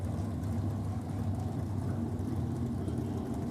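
A Firebird drag car with a 376 cubic inch Chevrolet engine rumbles in a low, steady, fairly distant drone with no clear revving peaks, heard alone without talk.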